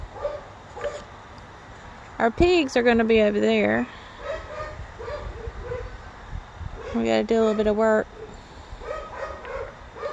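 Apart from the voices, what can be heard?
dogs barking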